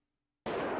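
A loud, sudden explosion from the video game Who Shot Johnny Rock bursts in after near silence and sustains a broad, roaring blast to the end.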